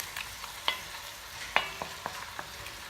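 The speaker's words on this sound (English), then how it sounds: "stirring it over." Meat for spaghetti bolognese sizzles softly in a pan while a utensil scrapes and taps against it in a few sparse strokes, close and fairly quiet, with no talking.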